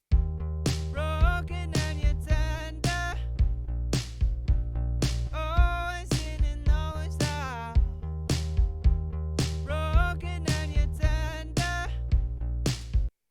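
Music loop with a vocal line, a deliberately sloppy bass part and a programmed kick and snare, playing steadily with uneven volume between notes and words, with no talk over it.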